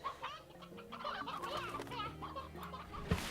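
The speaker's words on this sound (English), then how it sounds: "It's like, oh, chickens" Chickens clucking in the video game Slime Rancher, a short burst of soft, close clucks and murmurs lasting a few seconds.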